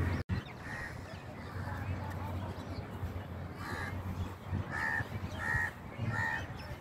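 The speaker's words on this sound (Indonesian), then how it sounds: "Ini sangat banyak burung-burungnya di sini." Crows cawing repeatedly in a public park in Gujarat, India, several loud calls overlapping across a steady outdoor hum of distant traffic and background voices.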